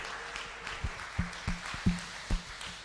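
A church congregation claps for Jesus during preaching, producing faint, steady rhythmic handclaps in an even beat under a soft, murmuring room background.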